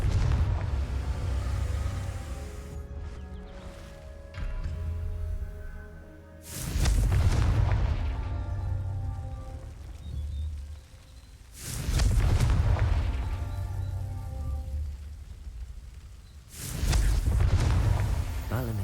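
Several deep booming blasts from the Confringo fire spell in the wizarding video game Hogwarts Legacy erupt at intervals, loud and rumbling, each trailing into a low roar.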